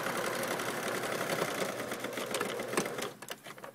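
A sewing machine runs steadily, stitching a sweater cuff seam with a quarter-inch allowance, its rapid mechanical chatter close and continuous before it slows and stops near the end.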